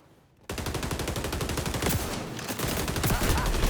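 Rapid automatic gunfire in the video game XDefiant begins abruptly after a brief quiet moment, then continues as a loud, steady stream of shots to the end.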